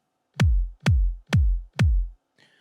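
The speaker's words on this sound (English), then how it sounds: "So here are the 2 kicks, one low," Two layered kick drums, one low and one high, from a phonk beat built in FL Studio, hit four times in an even rhythm as punchy booming thumps with deep decaying tails, then a faint tiny blip.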